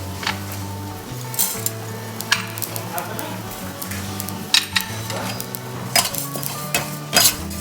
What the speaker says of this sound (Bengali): বাদ বাকি মশলাগুলো এখন আমি ভেজে নেব।